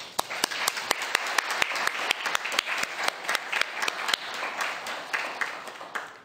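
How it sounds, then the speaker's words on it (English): Applause from the audience at a Hampton City Council meeting honoring health-care workers, a room of steady hand claps with sharp individual claps standing out, continuous for several seconds. "I think we should follow that with a round of applause"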